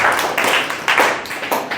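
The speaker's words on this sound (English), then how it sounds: "Clap for them. They have volunteered nicely." A classroom of students claps for volunteers in quick, uneven bursts, close and fairly loud, with faint voices mixed in.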